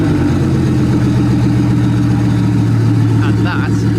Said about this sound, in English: And that is the sound of the Bugatti race car